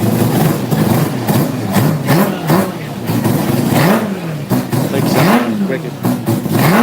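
A tuned Mazda RX-7 rotary engine revs repeatedly, rising and falling in quick, loud pulls over a rough idle, with voices talking between the blips.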